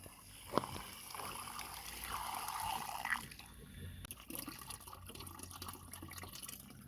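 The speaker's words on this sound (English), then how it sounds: "I have float valves inside that automatically top them off." A float valve tops off a livestock waterer in a pig pen: a quiet trickle of water with scattered drips and splashes, heard close with no talking.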